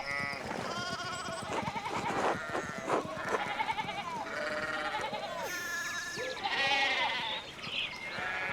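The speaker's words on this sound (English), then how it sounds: "One of the fence rails fell off and the sheep started hopping it." Sheep in the video game Pentiment bleat repeatedly in a busy, overlapping chorus of wavering cries at moderate volume, with some faint voices mixed in.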